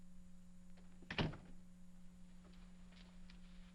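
An office door in a 1950s film setting opens with a single solid thunk as a visitor goes in, against a quiet room with a low steady hum.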